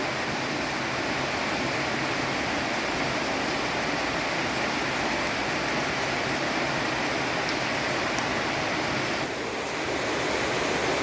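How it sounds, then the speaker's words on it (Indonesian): Heavy rain pours down outside a home kitchen, a dense, steady roar that stays loud and unbroken throughout with no voices. "Itulah hujan deras banget ya, jadi suaranya berisik"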